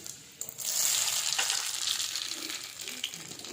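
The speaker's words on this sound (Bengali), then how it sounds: "তেল প্রচণ্ড গরম হয়ে গেছে এবার এর ভিতর দিয়ে দেবো আমি কিছু রসুন ছাড়িয়ে রেখেছি রসুন দিয়ে দেবো" Garlic hits very hot oil in a pan over a wood-fired stove, giving a loud, steady sizzle that flares up and holds close by, with faint stirring noises.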